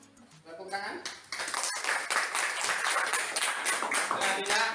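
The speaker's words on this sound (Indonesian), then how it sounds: "Tepuk tangan." A classroom group breaks into a burst of steady clapping that builds after a brief pause and continues throughout, with voices talking faintly underneath.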